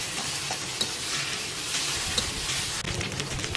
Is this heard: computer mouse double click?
no